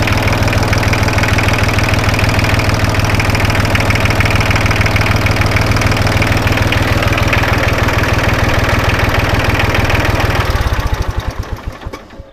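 An Iseki TS3110 four-wheel-drive tractor with a rotary tiller idles with a loud, steady, knocking engine chug, then the engine shuts down and its beat slows and fades out near the end.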